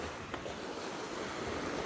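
Sea waves wash along the rocky coast of a seaside village in Brist, Croatia, a continuous broadband surf wash with wind buffeting the microphone.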